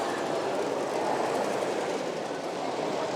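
OO gauge model trains running on a roughly 6x4 club layout with two loops and sidings at a model railway show, a steady close whirring rumble of wheels on track with no pauses.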